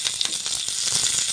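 Curry leaves sizzle in hot oil for a South Indian curd sambar tempering, a steady bright crackling hiss with small pops running throughout, close and fairly loud, with no voices.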